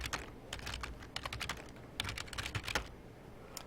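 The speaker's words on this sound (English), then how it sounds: "as I'm typing these inputs" Rapid keystrokes on a computer keyboard, clicking in quick irregular bursts with brief pauses, close and clear, with no talking.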